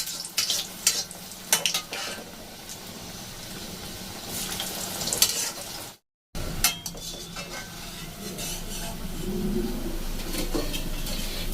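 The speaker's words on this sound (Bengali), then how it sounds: "একদম লো ফ্লেমে ভাজতে হবে।" Homemade tiffin snacks frying in oil over a low flame, a soft steady sizzle with occasional clinks of a spoon or pan, briefly cut to silence midway before the gentle bubbling resumes.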